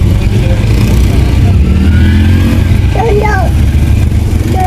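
Vehicles crawl in a long traffic jam in heavy fog, engines rumbling steadily and loudly nearby with a brief rev, while a voice speaks over the noise.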